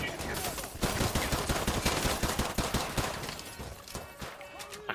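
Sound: gunshots in video game Modern Warfare 2

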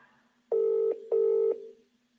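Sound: telephone call ringing out to competition winner

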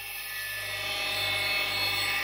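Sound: big coarse-grit diamond wheel grinding and shaping jade

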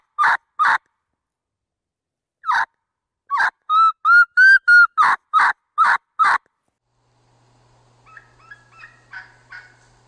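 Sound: turkey call imitating a lost young turkey's kee-kee

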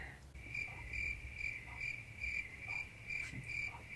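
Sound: cricket chirping sound effect

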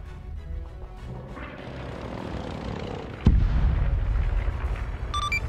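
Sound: bombs exploding in a military video game

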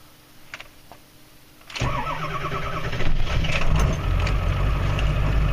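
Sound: truck engine cranking and starting in extreme cold

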